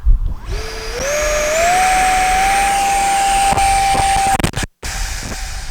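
A 50mm electric ducted-fan RC T-33 jet model on 4S power spools up to almost full throttle for takeoff. Its whine rises in pitch and then holds as a loud, steady, close scream before cutting out briefly near the end.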